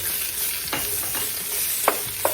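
Onions and garlic softening in hot oil in a pan: a steady close sizzle with a few sharp pops and scrapes standing out, no talking.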